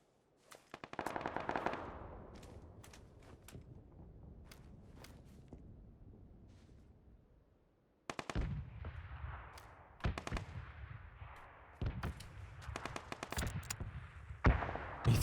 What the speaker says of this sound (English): He threw a little decoy grenade in front of himself.